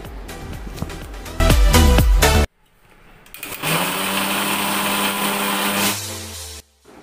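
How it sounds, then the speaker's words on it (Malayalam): An electric mixer grinder whirs at full speed, blending curd into buttermilk. A loud burst cuts off abruptly, then after a short pause a second long, steady whine follows before stopping. "കുറച്ച് തൈര് എടുത്തിട്ട് മിക്സിയിൽ ഒന്ന് അടിച്ചു കൊടുക്കുകയാണ്"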